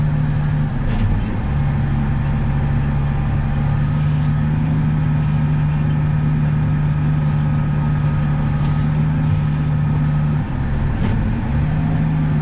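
A truck engine idles steadily and loudly close by during wheat harvest loading on an Ohio farm, its low drone unbroken throughout with a faint hum riding above it.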